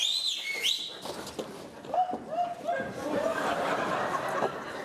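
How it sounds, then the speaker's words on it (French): A few short, rising whistles near the start, followed by people talking over some background chatter. "il ne faut pas siffler comme ça"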